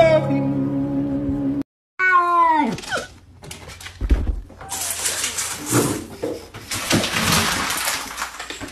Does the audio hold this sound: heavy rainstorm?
no